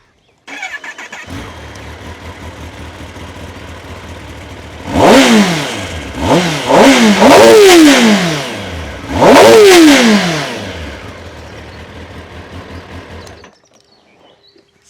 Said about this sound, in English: while this is a really loud exhaust for this motorcycle already